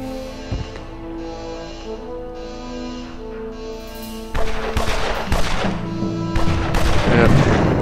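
Explosions and gunfire from soldiers storming a base in the video game Evil Genius, a rapid crackling barrage of shots and bursts that grows louder and denser over tonal game music.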